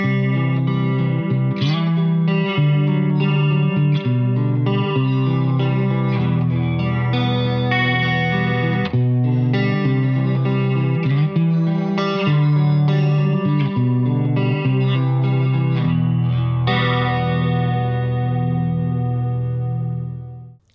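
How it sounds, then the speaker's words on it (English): Electric guitar played through a Beetronics SeaBee pedal set to a traditional chorus effect, loud sustained shimmering chords with swirling modulation, ringing out alone and fading at the end. "So that's like a traditional, really pretty chorus sound."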